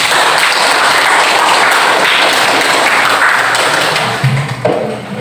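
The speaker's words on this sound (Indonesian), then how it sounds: "tepuk tangan untuk kita semua" Group applause from a gathering of participants fills the whole stretch with steady dense clapping, loud and close, then thins out with a few thumps near the end.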